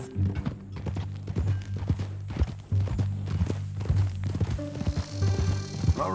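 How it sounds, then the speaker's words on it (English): Horse hooves clip-clop steadily in Red Dead Redemption 2 at an even walking rhythm, close and moderately loud, with a faint snort or whinny-like sound near the end and no talk over it. "That a new horse?"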